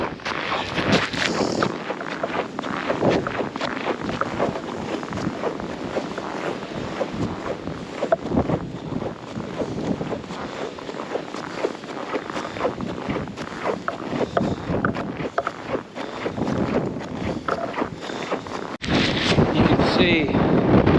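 A strong blizzard wind roars through a winter city, buffeting the microphone with loud continuous rushing and gusts close by for the whole stretch.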